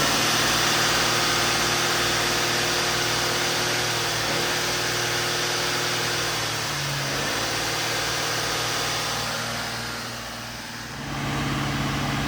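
A car engine held at about 2,000 RPM for a scan tool self-test while a P0135 oxygen sensor heater fault is checked, producing a steady, loud, close engine hum that shifts pitch slightly and dips briefly near the end. No one speaks.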